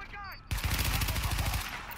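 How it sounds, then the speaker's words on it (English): Rapid automatic gunfire in the video game The Division, a loud close burst of about a dozen quick shots that starts abruptly after a brief electronic tone and fades at the end. "I shot that guy straight in the head"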